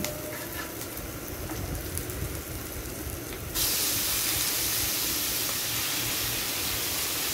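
Onions, garlic and green chillies with a little salt frying in a pan, a steady close hiss that jumps louder partway through and stays as a dense, continuous sizzle with no voices.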